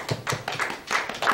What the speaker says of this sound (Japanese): 皆さん拍手してくださいね